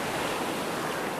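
Surf breaking on a hot Kerala beach along the Arabian Sea, a steady broadband wash of waves close by with some wind, continuous and unbroken, with no voices.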